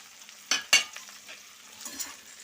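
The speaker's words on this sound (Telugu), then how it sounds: "ఇప్పుడు ఇవన్నీ ఒకసారి మనం మళ్ళీ ఫ్రై చేసేసుకుందాం" Capsicum and onion cut into petal-shaped pieces being stirred and fried in a pan for a restaurant-style paneer mixed vegetable curry, with two sharp scraping stir strokes over a low, steady sizzle and no talking.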